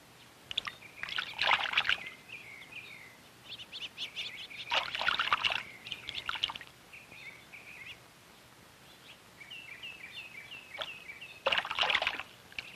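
Birds splash in a backyard bird bath in several bursts of fluttering, dripping water, while chirps and short calls sound repeatedly between and over the splashes, close and moderately quiet.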